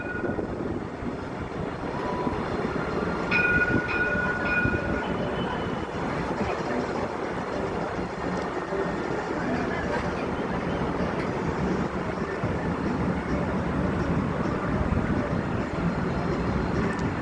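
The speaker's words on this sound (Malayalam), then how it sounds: "ഇത് വരുന്നു ട്രാം." A Dubai Marina tram passing near Jumeirah Beach Residence, heard as a steady, fairly loud rolling rumble with faint high tones, continuing with no talk.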